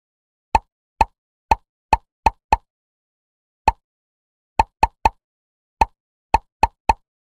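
Bubbles pop in a kids' numbers video game as each one is tapped: a string of about fourteen short, crisp plops in an irregular rhythm, some spaced apart and some in quick runs, each clear and alone.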